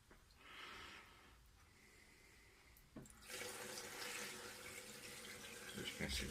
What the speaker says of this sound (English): I'm running the water over it